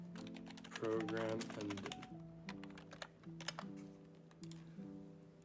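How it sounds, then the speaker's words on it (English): Fingers type Python code on a computer keyboard, giving a brisk series of close key clicks in uneven bursts under a man's quiet speech. "after the if statement, I'm going to type print"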